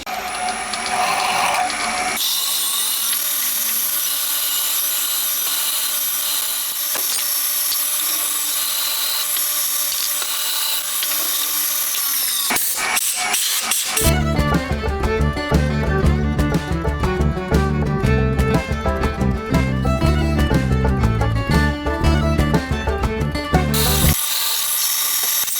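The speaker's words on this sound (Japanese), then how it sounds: "まずは 5mm で貫通させちゃいますね。" A 5 mm through-hole is drilled in a handmade aluminium-style engine cylinder for a 125cc four-cylinder 16-valve engine, a steady machine whine giving way to a loud, rhythmic grinding chatter of the drill cutting through the workpiece.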